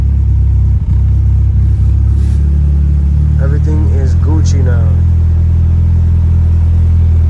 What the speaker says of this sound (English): We finally got the gas to work with the engine running.